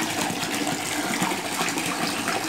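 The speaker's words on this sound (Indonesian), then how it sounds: "Sekarang saya sudah mengucurkan 2 keran" Water gushes steadily from two taps into a fish pond being filled for gourami, a loud, continuous rushing splash with no pauses.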